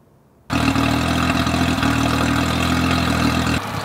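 A speedboat engine starting up after an engine and gearbox oil change, a sudden steady loud running drone that holds evenly before dropping slightly at the end.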